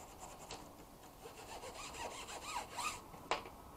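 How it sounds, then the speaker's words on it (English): A window screen's groove channels are scrubbed with soapy water, giving soft rasping back-and-forth rubbing strokes close by, quiet and uneven, with a sharper scrape near the end. "I'm going to use my soapy water here and I'm going to clean out those groove channels"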